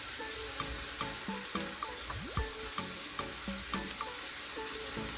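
Saltfish fritters fry in hot oil with a constant fine sizzle, punctuated by light taps and scrapes of a utensil in the pan at a close, even level, no voices.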